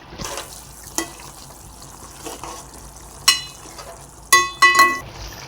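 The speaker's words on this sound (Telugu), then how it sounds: "చికెన్ నుంచి వాటర్ అంతా బయటకు వచ్చాయి కదండి, ఇవన్నీ ఇంకేంత వరకు మనము చికెన్ బాయిల్ చేసుకోవాలి" Chicken simmers in the water released from it in a pan over a low flame. A soft bubbling hiss runs throughout, broken by several sharp clinks and scrapes of a spoon as it is stirred.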